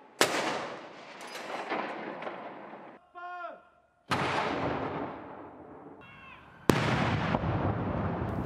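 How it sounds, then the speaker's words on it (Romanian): Cannon salute fired to honour the newly proclaimed King Charles III of Britain: three heavy booms, each rolling into a long rumbling decay, with brief voices audible in the gaps between blasts. "După ceremonie au fost trase salve de tun în onoarea noului rege."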